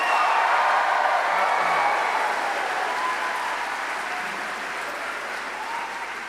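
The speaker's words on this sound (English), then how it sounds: "I want to hear how loudly we can clap and cheer" A graduation ceremony audience claps and cheers loudly together, a dense sustained wave of applause that gradually softens over several seconds.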